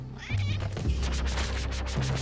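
A cat meows inside the Spelunky 2 video game, a loud, sustained cry over a dense backdrop of game music and effects, with no voices present.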